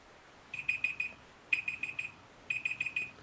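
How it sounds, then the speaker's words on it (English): A timer alarm beeping in three quick bursts of rapid electronic beeps, each burst about half a second long and spaced roughly a second apart, fairly faint in a quiet room. "Who set a timer for me?"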